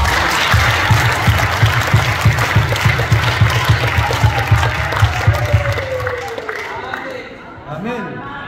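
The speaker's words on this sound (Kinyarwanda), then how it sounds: "tumukomera amashyi." A church audience claps in a fast, rhythmic beat for about six seconds, loud and close, then the clapping stops and a voice speaks over faint room noise.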